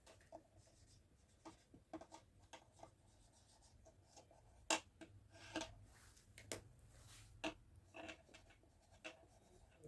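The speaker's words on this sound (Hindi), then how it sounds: "अगर मैं इसकी डेफिनेशन लिखना चाहूं तो क्या बनेगी," A pen scratches across paper in short, uneven strokes while a chemistry definition is written out by hand, close but quiet, with light taps and pauses between words and no talk.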